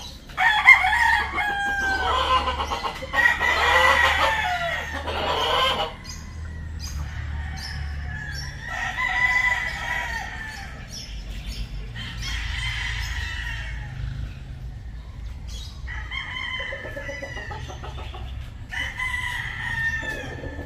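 Several roosters crow repeatedly in drawn-out calls at a rural spot crowded with chickens, some near and some farther off, with faint clucking between the crows.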